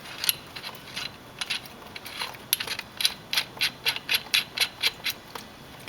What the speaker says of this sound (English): you really got to counteract it with the second wrench to get it tight enough